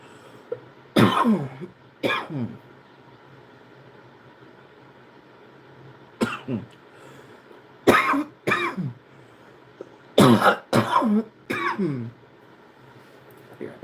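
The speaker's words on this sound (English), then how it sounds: "it just gives you the coughs." Several bursts of harsh coughing and throat clearing come in clusters close to the microphone, separated by quiet gaps over a low steady background hum.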